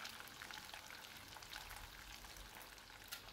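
Grated coconut frying in oil in a home kitchen for Sundanese serundeng, giving a steady, even crackling sizzle that holds close and constant throughout, with no talking.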